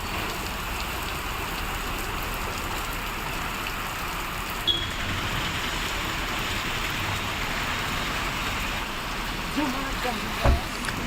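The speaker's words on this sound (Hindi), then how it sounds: "तेज हवा के साथ बारिश का सिलसिला शुरू हो गया।" Rain driven by strong wind during a sudden weather change in Bastar and Gariyaband, a dense, steady hiss of drops on surfaces throughout, with a couple of brief knocks near the end and no clear talk.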